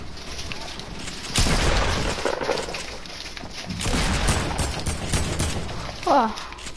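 Shotgun blasts in a video game, several loud booming bursts with pauses between them, a voice talking alongside.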